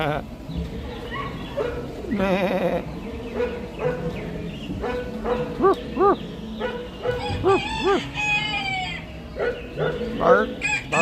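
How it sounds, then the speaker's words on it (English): Chickens cluck and a rooster crows in a farm-themed outdoor show at a flower and garden festival, with clucks and cock-a-doodle calls scattered over several seconds amid a busy background and a voice. "Cluck, cluck, cluck, cluck."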